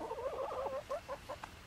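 Chicken clucking in a coop, a short series of soft, close clucks and murmuring calls that break into brief separate notes toward the end.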